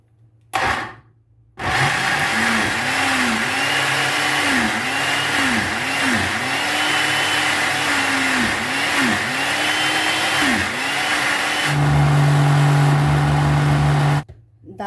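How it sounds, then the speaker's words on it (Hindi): A kitchen blender whirs steadily, grinding urad dal with green chilies and ginger into a fine paste. Its motor drones loudly at close range for about twelve seconds, with the pitch rising and falling in repeated swells before it stops. "इसको इतना ग्राइंड करेंगे कि ये बिल्कुल फाइन पेस्ट तैयार हो जाए"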